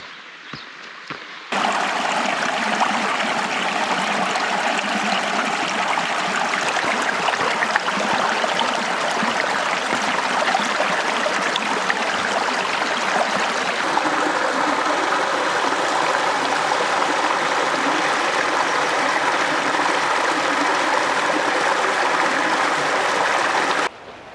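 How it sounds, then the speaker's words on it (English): Lemon Creek rushes steadily through a fire-burned canyon in the Mount Lemmon wilderness, a close, continuous broadband wash of flowing water that starts abruptly and holds level throughout. "This right here is Lemon Creek still."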